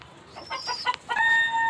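A hen clucks in a few short throaty notes, then a longer drawn-out call rises, close and fairly loud, sitting among pigeons in a coop.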